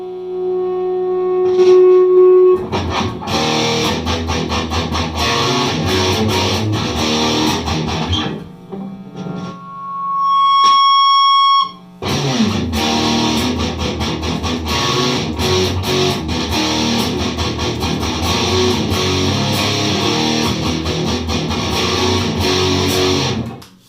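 An electric guitar played through a BOSS OS-2 overdrive/distortion pedal, with loud distorted chords and riffs, a short quieter gap with a few sustained clean-ish tones midway, then dense driven playing resumes.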